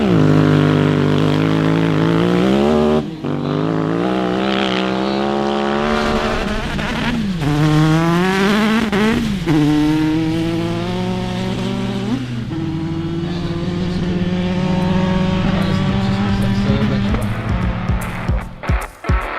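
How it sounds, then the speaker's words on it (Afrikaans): A cross-cart style buggy with a 1000cc V-twin engine roars loud and close at a gravel drag race, its rising and falling engine note climbing through several revs and gear changes across the run. "Barracuda, like cross-cart buggy kind of thing with a 1000cc V-twin motor on it."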